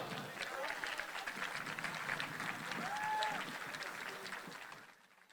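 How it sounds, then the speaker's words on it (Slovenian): Applause from an audience gathered for a public talk on the judiciary, broad clapping that holds steady and then fades out near the end, with a voice speaking faintly over it. "Aplavz!"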